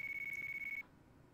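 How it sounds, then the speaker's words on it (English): A phone rings in the video game Yakuza 4, a short electronic tone that holds steady for under a second and then cuts off, leaving quiet background. "Your phone is ringing,"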